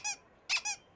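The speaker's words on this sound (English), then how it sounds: "Listen to that ducky squeak." A rubber duck toy squeaks three times in quick succession, bright and close, with short high-pitched honks separated by brief silences.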